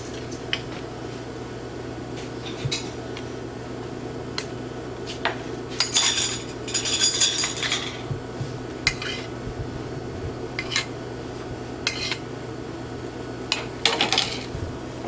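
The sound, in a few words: forks and dishes clinking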